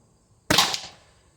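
A Byrna HD CO2 launcher fires a single sharp shot, a sudden loud pop with a hissing gas release that fades within about half a second, close and alone.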